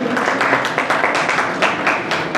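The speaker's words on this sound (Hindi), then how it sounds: "सुनीता जी के लिए एक बार जोरदार तालियां हो जाए आपकी" An audience at a Hindi book launch event claps enthusiastically, a dense run of handclaps with quick irregular peaks, steady and fairly close for the whole stretch.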